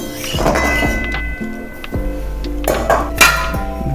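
A metal lid clatters onto a cooking pot of small fish, with several ringing clanks and clinks as it settles, close and sharp with no voices.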